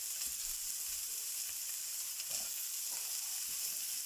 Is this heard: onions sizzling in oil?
yes